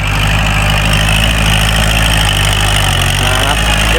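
A Kubota L5018 tractor engine drones loud and steady at low pitch, running in first gear while pushing a full bucket of soil in two-wheel drive, with a slight dip in pitch near the end and no speech.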